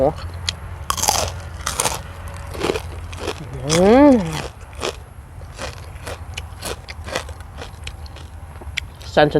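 Crunchy pork rinds bitten close to the mic, with several sharp, loud crunches spread across the stretch and a short vocal hum in the middle.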